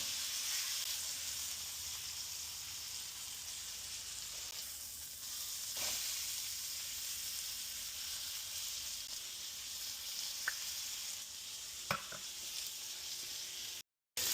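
Steak sears in a pan at night with a steady, close sizzle that runs unbroken throughout, broken only by a few faint pops and crackles from the hot fat.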